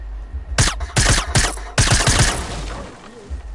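Gunfire in a PS4 video game: a close, loud run of rapid shots in several quick bursts that fade into a quieter tail.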